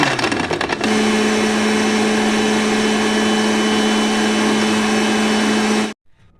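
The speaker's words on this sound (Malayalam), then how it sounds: "ഇതെല്ലാം കൂടി ബ്ലെൻഡറിലിട്ട് ഒന്നുകൂടി നന്നായി മിക്സ് ചെയ്തെടുക്കും." A kitchen blender whirs at a steady, loud, high-pitched drone while blending wood apple fruit into juice. It runs for about six seconds before cutting off abruptly.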